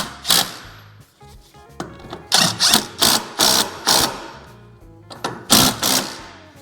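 A hand ratchet clicks in short rhythmic bursts while 21 mm nuts are tightened on a Ford Ranger ball joint, close and crisp with brief pauses between strokes.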